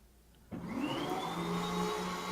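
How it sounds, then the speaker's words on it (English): A vacuum cleaner motor starts abruptly and spins up to a steady loud whine, its pitch rising as it reaches full speed and then holding constant. "Oh, I hear a vacuum."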